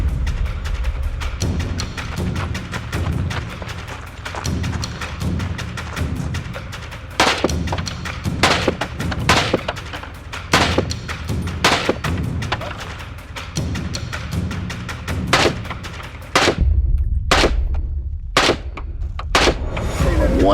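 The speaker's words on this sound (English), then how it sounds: "One or two of those shots might have went off target, but overall, felt like a pretty good run." Gunfire on a shooting course aimed at targets, with repeated sharp shots in irregular bursts, some isolated and some in rapid pairs, loud against steady outdoor background noise.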